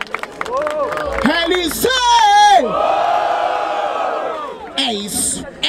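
Rap battle audience cheering and roaring at a Brazilian freestyle event, loud whoops and yells from many voices swelling in bursts, with an MC shouting over the crowd.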